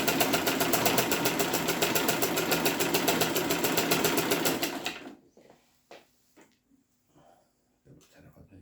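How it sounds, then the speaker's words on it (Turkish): A Zetina manual treadle sewing machine running in reverse stitch, a fast steady mechanical clatter for about five seconds that then stops abruptly, leaving quiet with a few faint clicks and handling noises. "Sonuna kadar çekerseniz de geri geri dikiyor."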